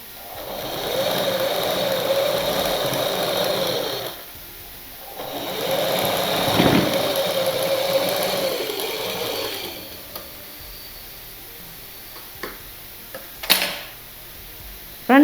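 A sewing machine stitches a blouse in two runs of steady, rapid mechanical whirring, each about four seconds long, separated by a pause, then a few scattered clicks and handling noises.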